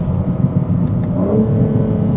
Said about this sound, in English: it sounds so glorious in this M4 Facelift cabriolet here.